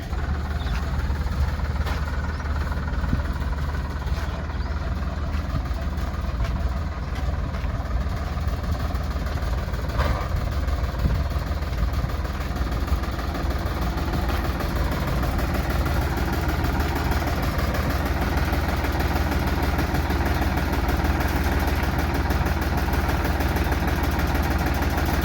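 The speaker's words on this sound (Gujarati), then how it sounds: "તો ટ્રેક્ટર આવી ગયું." A tractor engine idles steadily on a village farm before wheat sowing, a continuous low rumble that holds at an even level throughout with no one talking.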